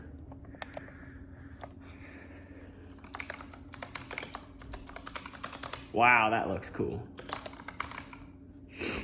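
Rapid clicking keystrokes on a Razer Huntsman Elite mechanical keyboard come in bursts across the clip, close and moderately loud, with a short spoken remark breaking in near the middle.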